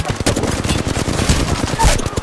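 Rapid automatic gunfire in an online shooter game, loud close bursts of quick shots running nonstop through the clip with a few heavier blasts mixed in.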